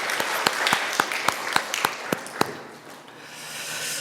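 Sparse, scattered claps at a Sunday church service in Winnipeg, a handful of distinct hand claps in a loose rhythm that thins out and fades to quiet room tone.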